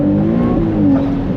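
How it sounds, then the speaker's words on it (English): A Ferrari engine revs hard at speed on the autobahn, a dense sustained roar with a rising pitch sweep and a brief turbo blow-off hiss near the end, close and loud throughout. "You've got a little turbo blow off."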